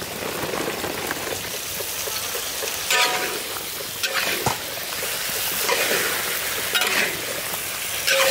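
Potatoes and pointed gourd (potol) frying in spiced oil in a pan for a village-style potol chingri, a dense rain-like sizzle with occasional scrapes and clatter from stirring, steady and close, with no talking.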